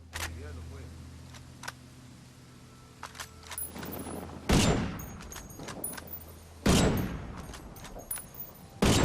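A gun firing in Ghost Recon Wildlands, three sharp, loud single shots with long gaps between them over a steady background hum, while someone talks throughout.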